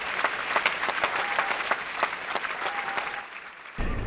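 An audience at a cultural show applauds the dancer Germaine Acogny on stage, with sustained clapping and a few sharp individual claps standing out before the applause fades and cuts off.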